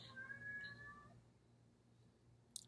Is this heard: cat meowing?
yes